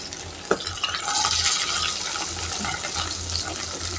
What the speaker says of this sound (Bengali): কড়াইয়ে দিয়ে দিয়েছি সাদা তেল তেজপাতা গোটা জিরে আর মটরশুঁটি এবার এর মধ্যে অ্যাড করব পেঁয়াজটা